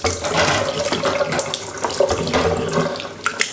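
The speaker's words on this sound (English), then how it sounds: "I'm just going to give it a quick rinse under the hot tap" Hot water tap running over siphon tubing used for brewing honey ale and mead, a continuous close splashing rush of water into a sink with the tubing shifting under the flow.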